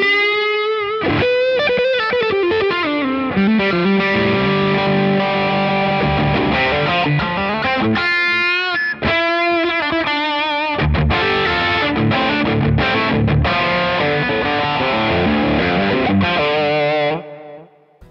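Electric guitar played through a stacked Greer Lightspeed and Nordland ODR-C overdrive with delay and reverb into a used amplifier: loud, distorted chords and riffs with sustained ringing notes and echo tails, a brief gap mid-way, ending in a fading ring.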